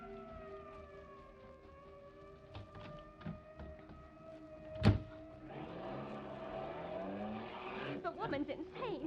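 A fire chief's car siren in an old-time radio drama chase, a rising and wailing tone that swells over engine noise, with a sharp bang midway and voices talking.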